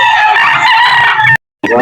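A rooster crows loudly and close, one long cock-a-doodle-doo call that cuts off abruptly, followed by a brief start of another sound, at a fowl sale in Carbon, Cebu.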